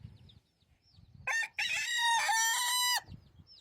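A rooster from a prize-winning backyard flock crows once, loud and close, a long harmonic call with a brief break near its start, rising out of soft speech and low background sounds before and after.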